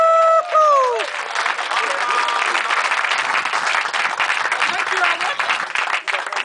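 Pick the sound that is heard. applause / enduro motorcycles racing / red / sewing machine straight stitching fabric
applause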